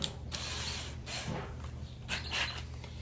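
A power drill chuck being run in reverse to open its jaws fully, giving a quiet series of ratcheting clicks in short bursts, close by with no talking.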